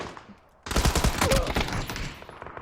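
Dense automatic gunfire from a video game erupts after a quiet start and rattles on continuously, loud and close, with bursts overlapping like a firefight.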